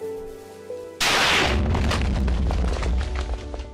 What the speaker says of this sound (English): So I'll fire these off. This cannon is actually larger than the other ones